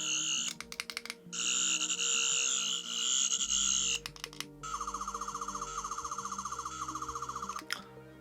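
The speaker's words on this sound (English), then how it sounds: "very much like the 10th Doctor sonic screwdriver sound" Electronic toy sonic screwdriver from Doctor Who: warbling high-pitched whirring tones in bursts, shifting to a rapid pulsing trill, loud and close.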